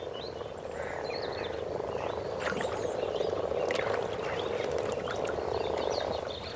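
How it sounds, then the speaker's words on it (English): Hundreds of frogs croaking at spawning time in fresh water, a dense continuous chorus of overlapping purring croaks with a few brief splashes and chirps, moderately loud, with no speech. "There are frogs in their hundreds. With their minds set on spawning, they make easy targets."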